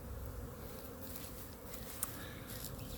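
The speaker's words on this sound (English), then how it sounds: "You can hear the buzz. I think there's a lot of orientation flights going on right now." Honeybees on orientation flights around a beehive make a faint, steady, continuous buzz, with individual bees passing close now and then and no talking.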